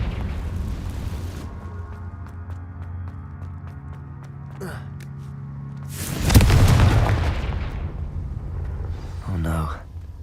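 A Confringo spell explosion in Hogwarts Legacy goes off as a single loud, deep boom partway through, rising out of a low ambient hum. Voices are heard around it.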